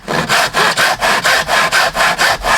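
Hand-held sawing through clamped wood: about ten steady, rhythmic back-and-forth strokes, close and loud, with no talking.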